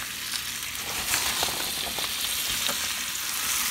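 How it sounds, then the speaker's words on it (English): Fresh spinach sizzles steadily in garlic butter in a pan over medium heat, a continuous soft frying hiss with faint stirring, no voices. "You can hear the sizzle a little bit."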